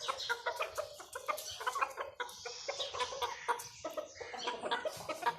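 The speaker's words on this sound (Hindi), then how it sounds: "ये जब इकट्ठे होंगे मुर्गे देख लेना आप खुद लड़ते हुए इनको" Roosters squabble in a fight, giving rapid, agitated clucks and squawks in dense overlapping bursts at moderate distance, with no talk.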